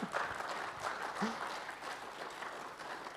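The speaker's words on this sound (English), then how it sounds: "give them a round of applause for that" Applause from an audience at a financial advice industry talk, moderately loud and steady throughout, with a faint voice briefly audible over the clapping.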